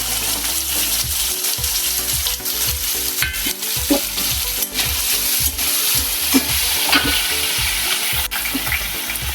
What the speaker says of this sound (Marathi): आता त्यासाठी आपण बटाटे कापून घेतले आणि त्यात बटाटा टाकायचा आहे.